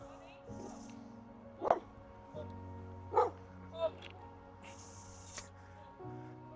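A dog gives a few sharp barks and yips in short bursts, close by, with a steady hum in the background and people around it.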